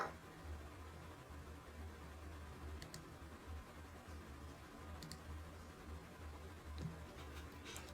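Quiet, distant typing on a computer keyboard, with a few sparse key clicks standing out over a low steady room hum and faint background noise.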